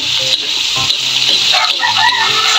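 Onion and garlic frying in a pan for pancit, a loud, close, steady sizzle with brief clinks and stirring sounds, no talking over it.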